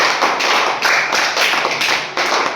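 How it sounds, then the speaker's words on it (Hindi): Students in a maths class clap for a classmate, a loud burst of many hands clapping close by in uneven waves that keep going with brief dips. "ताली बजाओ इसके लिए, सनी के लिए भाई"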